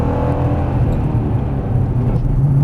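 Loud and close, a Ford Mustang Shelby engine drones as the car accelerates on a drift course, its pitch rising slightly near the end, with no one speaking.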